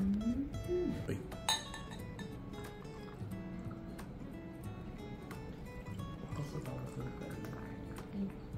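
Glasses clink in a wedding-anniversary toast at a luxury ryokan in Kirishima, with soft chimes over a steady background of quiet conversation and room ambience.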